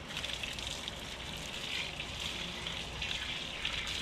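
Faint, steady running water from a tap or hose while a dog is bathed, a continuous soft rushing stream with no talking.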